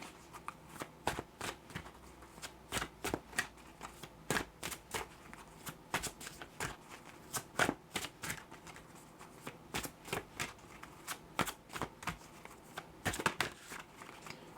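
Oracle cards being shuffled by hand before one is drawn: a steady run of quick papery riffles and flicks, close and fairly quiet, repeating throughout with no talking.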